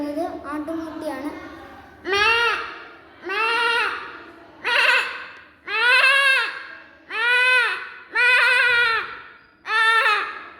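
A child imitates a lamb bleating with about seven drawn-out, wavering baa calls at a steady pace, close and loud, after a short stretch of speech.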